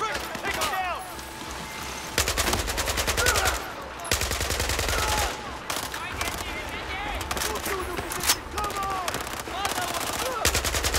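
Rapid automatic gunfire rattles in bursts through a Battlefield 4 campaign fight in Shanghai, with loud machine-gun volleys and scattered single shots repeating over several seconds, and someone talks over parts of it.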